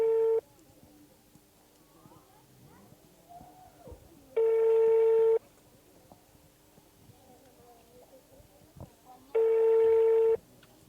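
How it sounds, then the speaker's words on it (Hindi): An unanswered phone call to a government official gives three loud, steady ringback tones about five seconds apart, with quiet room sounds in the gaps between them. "उनको फ़ोन लगाया गया है, रिंग भी जा रहा है"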